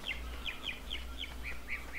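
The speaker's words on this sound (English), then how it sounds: "stupid bird." Repeated short chirping bird calls in the video game ARK, a steady series of bright tweets about every quarter second over a low background hum, with no talk.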